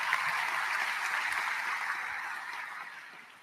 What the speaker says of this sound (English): let's give Grace Cardinal one more round of applause as well.